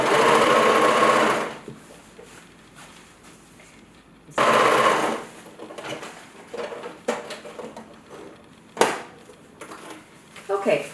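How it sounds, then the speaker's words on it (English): A sewing machine runs straight stitches along the seam of a homemade yoga bolster, in two loud steady bursts of motor whir separated by quieter handling noises and light clatter. "I've got my sewing settings just on regular straight stitches right now"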